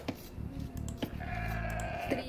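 Goats bleating in the video game Age of Empires 2, a few short nasal bleats at moderate volume over a steady game background.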